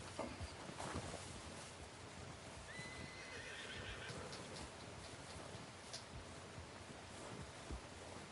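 A horse in the Red Dead Redemption 2 video game whinnies faintly amid a constant outdoor ambience of wind and rustling, with a few soft hoof thuds, all quiet and somewhat distant.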